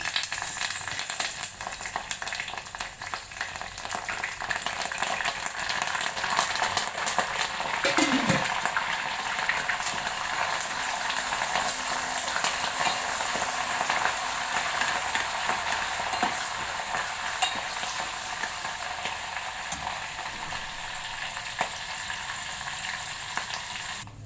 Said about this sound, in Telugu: ఆయిల్ వేడెక్కింది కదా, సాయమినపప్పు, ఆవాలు, జీలకర్ర, ఎండుమిర్చి, కరివేపాకు వేసేసుకుందాం.